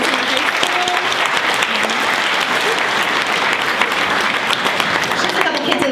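A concert audience claps and cheers after a spring choir performance, loud, dense applause with crowd noise that continues without a break for six seconds.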